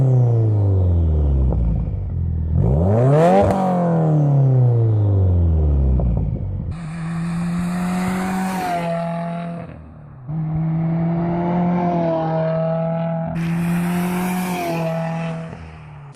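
A 2015 Subaru WRX engine revs through its exhaust, rising and falling in several loud sweeps before settling into a steady idle-like drone with repeated throttle blips, lacking the classic deep boxer rumble.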